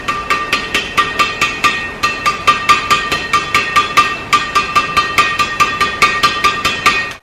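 A badminton racket strung with Mizuno M Smooth 65R at 27 lbs mains and 29 lbs crosses is tapped repeatedly, giving a steady run of crisp, bright, close plinks at an even rhythm with no talk.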